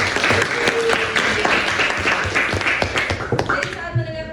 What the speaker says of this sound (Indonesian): Berikan aplaus untuk semua.